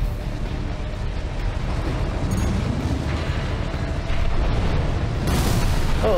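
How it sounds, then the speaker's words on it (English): Continuous heavy rumbling booms from explosions in Armored Core 6, loud and dense throughout with no voices, swelling slightly toward the end. "Use your mobility in the air to get clear of explosions on the ground."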